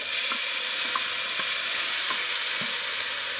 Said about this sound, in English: And I'm going to add our carrots, onions, garlic, and celery into that.